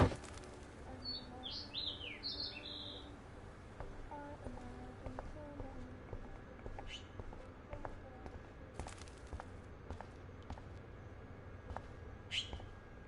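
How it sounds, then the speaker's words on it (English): Trapped bird in the Life is Strange video game, a few quick high chirps early on and faint scattered flutters, set against a quiet steady game ambience. "That poor little bird has been trapped in here."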